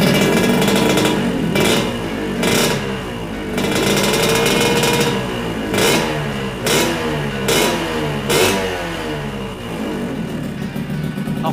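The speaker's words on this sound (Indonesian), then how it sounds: "di sini suara mesin lebih adem ya setelah ring piston kita ganti" Yamaha RX King two-stroke motorcycle engine idling after a piston ring replacement, a loud, close, steady rumble with periodic bursts of rattly revving at irregular intervals.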